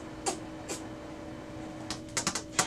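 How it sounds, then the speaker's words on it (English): A Brother MFC-L2720DW laser printer initializes with a steady internal hum and a series of sharp mechanical clicks and clacks, spaced out at first, then clustered near the end. "after the printer initializes"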